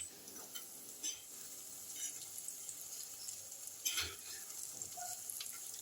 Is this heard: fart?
no